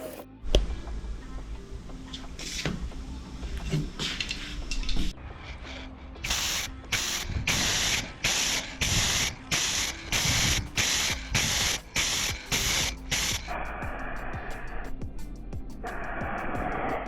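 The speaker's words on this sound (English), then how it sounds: "let's get the primer on." Black primer sprayed onto Nissan R34 Skyline Z-Tune car fenders in a DIY workshop: a long run of short, regular hissing bursts of a spray gun, each a second or less, close and loud, with a steadier hiss trailing at the end.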